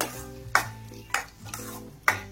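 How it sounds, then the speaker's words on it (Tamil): Lemon pickle sautés in sesame oil, a soft, steady sizzle broken by four sharp scrapes of a spoon against the pan at fairly even intervals. The sound is close, with no talking. "அந்த நல்லெண்ணெயில இந்த ஊறுகாய் வந்து ஒரு 2 நிமிஷத்துக்கு இந்த மாதிரி வதங்கட்டும்."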